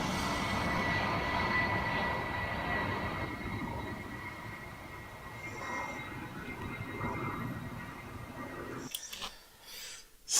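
An airplane flying overhead near a house about 1,000 feet up, a broad, steady rumbling roar that slowly fades, followed by a few faint clicks and rustles.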